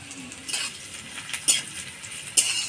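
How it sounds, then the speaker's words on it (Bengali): Oil sizzles softly in a pan as crushed garlic is dropped in, with a few sharp metallic scrapes and clinks of a utensil. "দিয়ে দিব থেতো করা রসুন"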